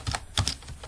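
Quick keystrokes on a computer keyboard, a short burst of several soft, close clicks in an otherwise quiet room.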